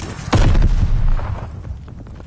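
A sticky bomb blows up in Call of Duty: Vanguard, one loud near boom that rings out and fades over about a second, followed by quieter game noise.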